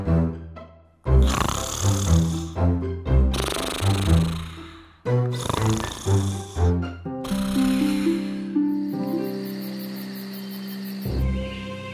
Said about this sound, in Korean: 밤새도록 코를 골며 잠을 잤답니다